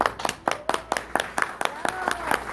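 Audience at a Cudahy town hall meeting applauding, a quick run of regular claps, fairly close, mixed in with a voice talking over them.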